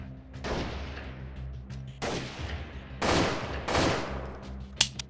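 Gunfire in the guerrilla shooter game Freeman: Guerrilla Warfare, with several loud bursts of shots and a rumbling, echoing tail over steady background noise, ending in two sharp close cracks.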